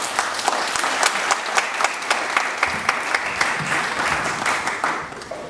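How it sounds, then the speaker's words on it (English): A crowd applauds at a university event, dense clapping with individual sharp claps popping out of a steady roar, loud and sustained for the whole stretch. "Let's give a big round of applause for Mr. BN Duke."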